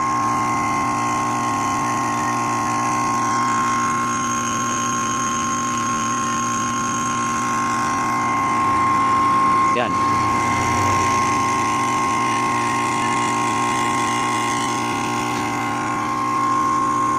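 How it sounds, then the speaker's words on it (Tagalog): Steady mechanical hum of a running inverter compressor with its U, V, W terminals wired in reverse, a constant tonal whine, close and continuous with no voices. "at yung tunog ng compressor pakinggan nyo"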